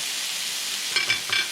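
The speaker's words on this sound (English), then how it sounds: "So our burger's ready to be flipped. Flip that over, flip that over." A smash burger patty, just flipped, sizzles on a pancake griddle in a steady, bright hiss, with a few soft scrapes and taps near the end.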